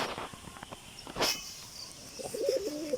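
Pigeons kept as pets produce scattered scuffs and a sharp click, then a brief, soft, warbling coo near the end.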